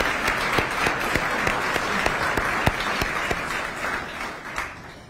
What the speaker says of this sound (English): please give the Lincoln Community Foundation folks a round of applause